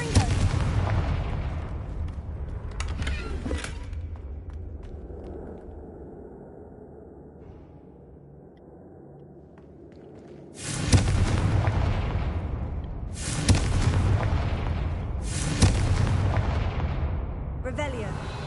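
Confringo blasting spells explode in a Harry Potter video game, one burst early and then a rapid series of loud booming blasts in the later half, separated by a quieter stretch with some speech.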